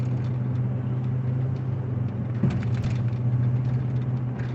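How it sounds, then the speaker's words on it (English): A truck pulls slowly into a residential driveway on a sunny day, giving a steady low engine rumble that holds at an even level throughout without any voices. "that truck's pulling in his driveway really slow"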